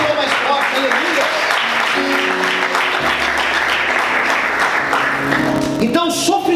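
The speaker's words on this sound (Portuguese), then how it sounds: "Aplaude o Senhor mais forte" Church congregation applauding loudly during a sermon, a dense sustained wash of clapping with music or voices mixed in underneath.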